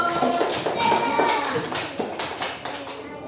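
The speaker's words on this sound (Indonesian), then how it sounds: "Coba Afif ya kasih tepuk tangan untuk temannya tadi yang sudah menjawab" Classroom applause for a student who answered correctly: a short burst of many hands clapping in quick, uneven rhythm, fairly close and lively, fading out over a few seconds.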